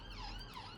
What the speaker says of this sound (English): Oh, that's the ambulance again.